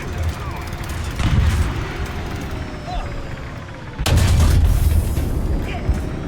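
Heavy M1 Abrams tank cannon shots fired at a BMP Terminator in War Thunder: two loud, deep booms about three seconds apart, each followed by a rumbling tail over steady engine drone.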